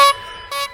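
A van horn blares twice in short, loud honks as the alarm goes off, the second blast following about half a second after the first.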